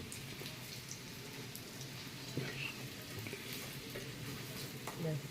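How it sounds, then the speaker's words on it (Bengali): A paneer roll frying in oil in a pan, giving a steady, close crackling sizzle with scattered pops throughout, no voices over it. "লাল করে ভাজতে হবে একটু বেশ মচমচে হবে"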